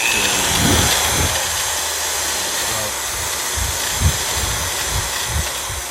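A power drill spins a brush to spread paint over a Nerf N-Strike Elite Roughcut blaster, giving a loud steady whirring hum throughout, with a few soft knocks and bumps near the end.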